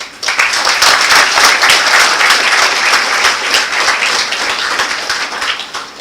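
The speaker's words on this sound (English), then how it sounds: "So please give yourself a big, big round of applause." Graduates at a university convocation break into loud, sustained applause, dense clapping from a large crowd that holds steady for about six seconds before easing slightly at the end.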